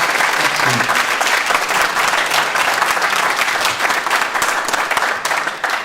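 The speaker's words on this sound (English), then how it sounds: "And let's give them one last final round of applause." Graduation audience claps for the graduates, a loud, continuous wash of applause from a large crowd that holds steady throughout and fades slightly at the end.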